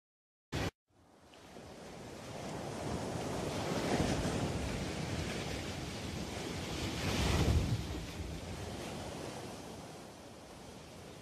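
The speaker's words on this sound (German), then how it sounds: "Die Meere und Ozeane." Ocean waves and surf wash continuously with a steady, broad roar, swelling into a stronger surge around the middle and later, with some wind noise and no voices.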